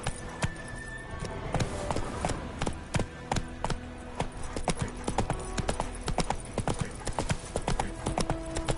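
Roach the horse gallops in The Witcher 3 on PS5, a fast rhythmic run of hoof clip-clops up close, continuous and loud with tack jingling over faint game ambience.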